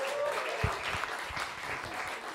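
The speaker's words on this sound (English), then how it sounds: "Give him a round of applause." An audience at a coding bootcamp demo day in Barcelona claps steadily for a couple of seconds, a dense wash of applause with a few sharper claps standing out near the start.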